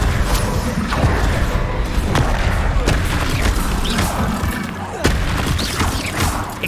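A string of combat spells in Hogwarts Legacy (Accio, Descendo, Expelliarmus, Confringo) cast in quick succession, with repeated thumping booms and sharp whooshing bursts over continuous rumbling battle noise.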